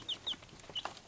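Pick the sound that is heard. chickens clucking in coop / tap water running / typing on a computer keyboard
chickens clucking in coop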